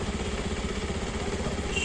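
A Bajaj Pulsar 125 motorcycle engine idling in gear with the side stand down, a quiet steady low pulsing putter running evenly throughout.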